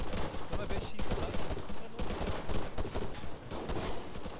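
Dense, continuous gunfire from the military video game Arma 3 during a bank robbery mission, a steady crackling barrage of overlapping shots with no clear gaps, loud and sustained throughout.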